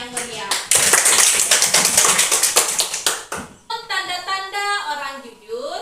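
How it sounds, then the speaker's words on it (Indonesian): Classroom applause, a burst of rhythmic, loud group clapping for about three seconds, then a voice speaking over fading claps. "tepuk tangan yang meriah"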